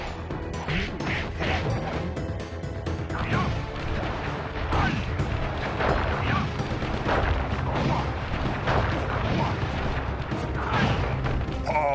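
Firework attack explosions in the Sly Cooper video game, with a dense run of repeated bangs, crashes and whacks over busy game sound, loud and close throughout, with a voice briefly heard.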